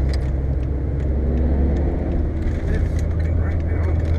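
A Renault Megane RS drives on the Nürburgring, its steady loud engine rumble and road roar heard continuously from a nearby car, with no clear pauses.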